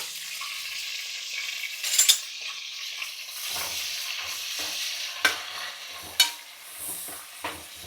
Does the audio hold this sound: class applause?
no